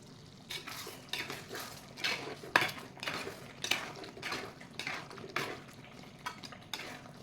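A spoon scrapes and knocks inside a pot while chicken gatti kulambu with coriander leaves is stirred, rhythmic scraping strokes repeating close by, with no talking.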